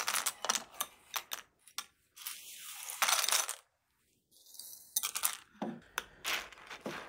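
Plastic keyboard keycaps are pushed slowly into soapy dish-water foam, giving close, irregular clicky clatters and rattles broken by brief quiet gaps.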